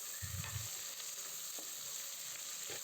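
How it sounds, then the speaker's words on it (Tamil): Onions with chilli and salt sautéing in a pan for chicken biryani, a steady faint sizzle with a few soft stirring scrapes and clinks, no voices. "நல்லா வெங்காயம் நல்லா ஃப்ரை ஆகணும். இந்த மாதிரி ஃப்ரை ஆகிறது வரைக்கும் நம்ம வதக்கிக்கிட்டே இருக்கணும்"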